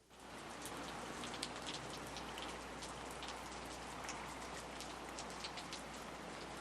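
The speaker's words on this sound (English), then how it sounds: "the sound of a soft rain" Soft rain falls steadily on a surface, a dense, even hiss of fine droplets with occasional individual drips, gentle and continuous with no other sounds.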